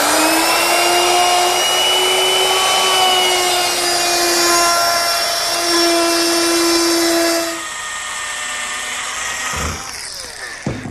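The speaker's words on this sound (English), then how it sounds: "I'm going to chamfer 3 edges" A power tool chamfers the edges of a clamped oak backsplash board about 4 inches wide in a vise, giving a loud steady close whine with tonal harmonics that cuts out partway, followed by a lower run-down and a few clicks.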